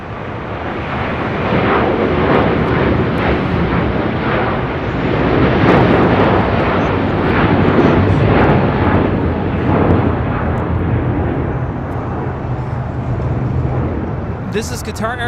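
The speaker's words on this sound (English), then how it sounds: "This is Qatar Airways 742, Qatari 59 Tango, taking off to Doha on the A350 1000" A Qatar Airways Airbus A350-1000 takes off, its broad, loud engine roar building and holding steady at close range with a brief sharp noise near the end, while a radio voice talks over it.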